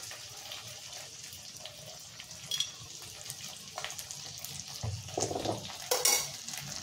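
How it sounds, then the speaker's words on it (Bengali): Tomato and other sauces are stirred into chili chicken in a pan, with a steady close sizzle under scraping stir strokes and wet, sloshing bursts near the end. "সমস্ত রকমের সসগুলো দিয়ে এবার এটা খুব ভালোভাবে মিক্স করে নেব"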